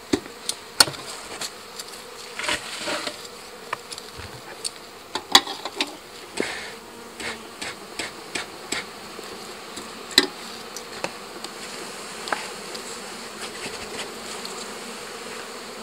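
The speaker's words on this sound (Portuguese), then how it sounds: "Todas as abelhas pedindo espaço, colmeias potentes" Honeybees hum in a constant soft drone at an opened hive, with many sharp ticks and knocks of frames and tools sounding over the buzzing.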